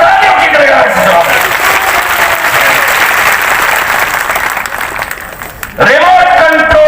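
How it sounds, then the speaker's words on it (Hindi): Large crowd at a political rally in Mandhata, Khandwa, breaking into loud, sustained applause and cheering that fills nearly the whole stretch, dipping briefly before surging again near the end. "सही है तो तालियों की करेगा जवाब"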